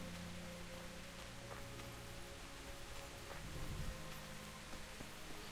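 Rain falls in the medieval video game Kingdom Come Deliverance, a faint, steady hiss of drops with soft patter and no voices.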